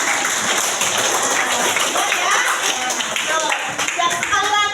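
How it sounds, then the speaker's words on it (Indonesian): Sixth-grade pupils in a primary school classroom clap their hands together in a dense, steady burst of applause, with children's voices and chatter mixed through the clapping. "Kalau setuju, semuanya boleh tepuk tangan."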